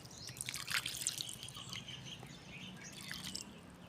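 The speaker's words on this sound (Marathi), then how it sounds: "आता मी जरा याच्यात पाणी टाकते" Water trickles and drips into a potted container planted with red amaranth greens, a soft, close, uneven patter of small splashes with faint background bird calls.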